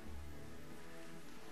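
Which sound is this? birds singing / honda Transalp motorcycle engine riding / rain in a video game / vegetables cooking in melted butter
rain in a video game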